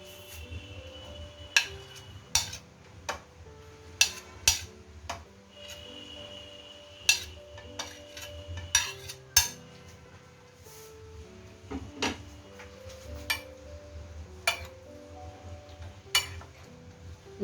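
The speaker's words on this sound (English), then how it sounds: "Now mix all the ingredients nicely and your salsa, mango salsa is ready." Mango salsa ingredients being mixed in a bowl, a spoon clinking and tapping against the dish in irregular bursts of sharp knocks, close and fairly quiet with no talking.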